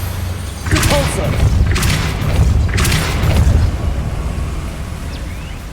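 The Depulso spell cast in the Hogwarts Legacy video game, three loud booming blasts in quick succession over a constant rumbling game background.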